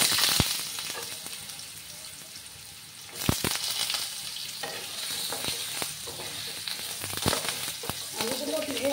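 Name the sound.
potatoes frying in a pan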